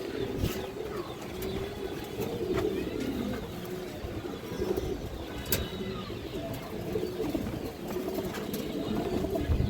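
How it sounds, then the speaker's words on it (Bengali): Bagha pigeons, including a hen of the parrot-shaped style with fixed leg tags, coo in a steady low murmur throughout, with a few sharper chirps and wing or cage noises mixed in nearby. "একটা বাঘা মাদি কবুতর আছে"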